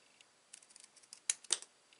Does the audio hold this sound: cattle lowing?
no